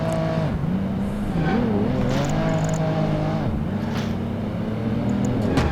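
Racing cars in Project Gotham Racing 2 roar and shift pitch as they overtake a Chevrolet SUV, engine tones climbing and dipping continuously with loud, close, sustained motor noise throughout.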